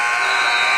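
At a Division II men's college basketball game between Millersville and Shepherd, the halftime buzzer blares at full volume. It is a loud, steady electronic drone.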